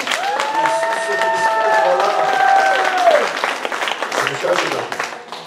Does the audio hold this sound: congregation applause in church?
yes